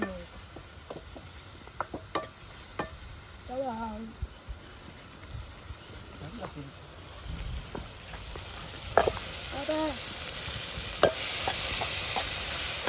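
Food being sautéed and stirred in a pan while cooking a dried fish dish, with soft sizzling and scraping strokes of a spoon, intermittent clinks, and someone speaking now and then over the cooking sounds.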